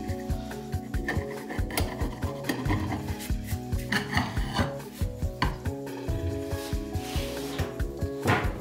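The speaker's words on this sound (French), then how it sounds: "J'enlève les traces de colle avec un ciseau à bois." A wood chisel scraping glue residue off a wooden fox cutout, heard as steady rhythmic rasping strokes, close and continuous, with some dull knocks of wood on the bench.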